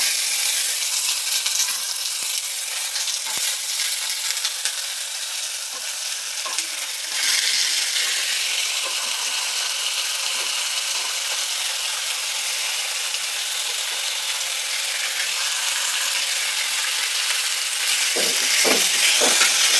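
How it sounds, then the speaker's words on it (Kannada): Potatoes and tomatoes fry in a hot pan with a loud, constant sizzling hiss, close up, with a few light scrapes and clinks of stirring near the end. "ಎಲ್ಲ ಚೆನ್ನಾಗಿ ಫ್ರೈ ಮಾಡ್ಕೊಳ್ಳಿ ಗೈಸ್"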